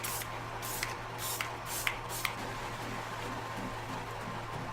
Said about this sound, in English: Now we're just gonna spray your face.